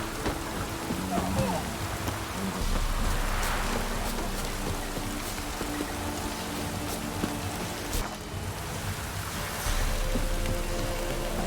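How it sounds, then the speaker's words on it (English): Steady rain pours down in The Witcher 3: Wild Hunt, a broad continuous hiss of drops on surfaces that holds at an even level throughout, with a voice speaking faintly underneath. "This downpour's a bastard, it is."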